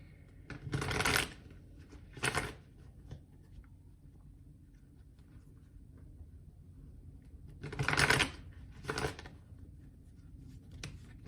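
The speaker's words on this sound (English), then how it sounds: "I'm gonna pull some chakra cards on this." A deck of chakra cards is shuffled in two pairs of brief riffling bursts separated by quiet pauses, close and fairly soft, with no one speaking.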